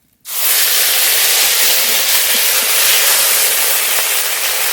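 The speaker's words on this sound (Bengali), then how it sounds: "এবার তেল দিয়ে ফড়ন করে নিয়ে মশলা করে নেব ফড়নের তেজপাতা গোটা জিরে" Bay leaf, whole cumin and spices dropped into hot oil for a Bengali cauliflower curry, bursting into a loud, steady sizzling hiss that starts abruptly and holds without a break.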